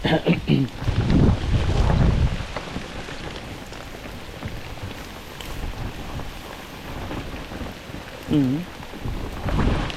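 Steady storm rain patters throughout, with a voice calling out briefly near the start and again near the end over the downpour.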